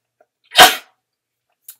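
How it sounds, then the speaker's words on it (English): One sharp, close sneeze bursts out in a quiet room during a papercraft session, followed by a tiny faint sound. "Edit out that sneeze."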